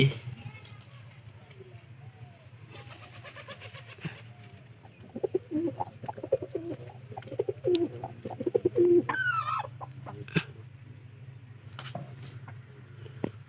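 Soft white pigeon coos repeat in a low, rhythmic murmur, mixed with a few brief chirps and light rustling over a steady low hum.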